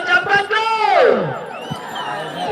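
At an Ongole bull event, a crowd lets out shouts and rising whistles, loud and close, with overlapping voices swelling then tapering off within a couple of seconds.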